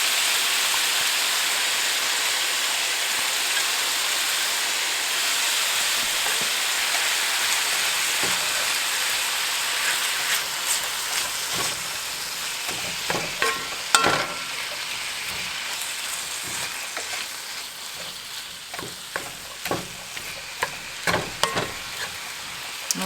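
Onions fry in a pan with a steady hiss that fills the background, while intermittent sharp scrapes and clacks of stirring grow more frequent in the second half.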